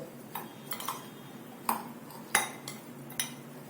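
A spoon clinks against a bowl while hand-pounded masala is mixed into cut carrot pieces for a quick carrot pickle, with several soft, sparse metallic taps spread over a quiet background.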